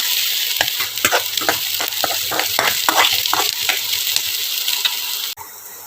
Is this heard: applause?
no